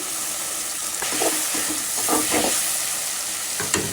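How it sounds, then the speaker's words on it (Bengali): Ginger, garlic and onion fry in oil with whole bay leaf, cloves, cardamom and cinnamon, giving a continuous bright sizzle with a few louder bursts as the pan is stirred. "দিয়ে দিলাম আদা রসুন,"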